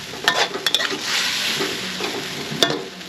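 Spring onion being stir-fried in a pan with ginger chicken, Thai style, a loud steady sizzle broken by sharp metallic clinks of a utensil against the pan.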